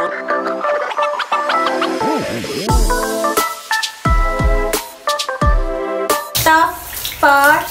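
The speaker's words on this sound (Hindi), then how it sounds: "जो है पानी डालना है इस पे" Water splashing and pouring over a cat during its bath, loud and close, heard in uneven bursts alongside clattering and squeaky tonal sounds, with no voices.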